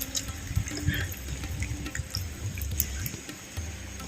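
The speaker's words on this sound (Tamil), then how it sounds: "மிக்சியில அரைச்ச தேங்காய் பால் ஒரு கோப்பை வந்து சேர்த்துக்கிறேன்" Ground coconut milk pours into rice in a pot at a home kitchen, a soft continuous liquid trickle with small splashy drips, fairly quiet and close.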